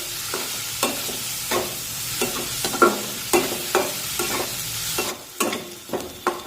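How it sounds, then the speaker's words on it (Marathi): Onion frying in a pan and turned over steadily with a spatula: loud constant sizzle punctuated by regular scraping strokes roughly every half second. "एकसारखा उलटण्याने हा कांदा असा हलवून घ्यायचा"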